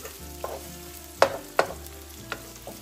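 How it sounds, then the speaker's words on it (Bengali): One and a half cups of finely sliced onions fry in oil with a constant close sizzle, broken by three or four sharp clacks and scrapes of a stirring utensil against the pan, no talking. "আমি পেঁয়াজটাকে ততক্ষণ পর্যন্ত ভাজবো যতক্ষণ পর্যন্ত না পেঁয়াজটা একটু গোল্ডেন কালার না হচ্ছে"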